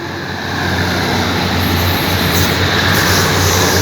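Diesel railcar number 1219 at a Thai railway station, heard as a loud, steady broadband rumble of engine and rolling stock that swells slightly after the first half second and then holds constant throughout.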